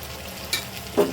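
Grated tomato going into chicken frying in a pan, a steady low sizzle with two brief louder splashes or stirs as it lands.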